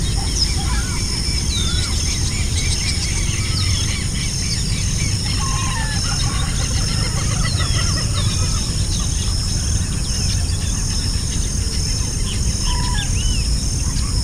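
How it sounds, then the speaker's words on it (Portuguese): Many birds, jacanas among them, call at a lagoon in a dense, constant chorus of chirps, whistles and squawks at varied distances, loud and unbroken over a steady background hum. "Muitas outras aves também tinham no local,"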